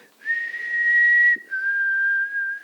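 A person whistles two sustained notes in imitation of an alien call, the first higher and held about a second, then a short break and a slightly lower second note, loud and close with no talking.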